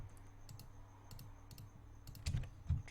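Computer keyboard keys tapped in short bursts while entering Blender shortcuts, close and fairly quiet, with a couple of louder clacks near the end and no talking.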